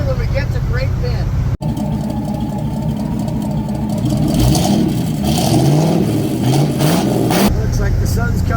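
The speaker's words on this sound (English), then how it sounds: "Oh, I am driving my 65 Impala SS." A 1965 Chevrolet Impala SS V8 drones steadily while driving on an early-morning road trip, a low continuous engine rumble with gentle swells of revving, and a voice talks over it.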